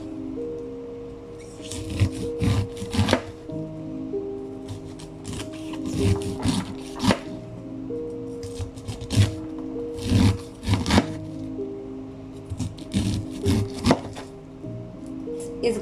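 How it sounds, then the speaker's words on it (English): A knife slicing kernels off a fresh corn cob for a Mexican corn cake, heard as bursts of scraping, crunchy cuts in uneven strokes with short pauses between them, close and fairly clear over faint background hum. "Now that we have it like this, with a knife, we're going to cut it like that."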